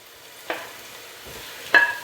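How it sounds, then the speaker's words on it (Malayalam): Onion sautéed with ginger and garlic in a pan for a biryani masala, heard as two brief, close stirring scrapes over a soft background sizzle. "ഇതിലേക്ക് ഇഞ്ചിയും വെളുത്തുള്ളിയും ചേർത്ത് വഴറ്റിയെടുക്കാം"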